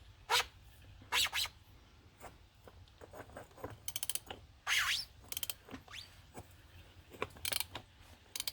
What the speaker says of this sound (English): Loosen off the oil filter housing.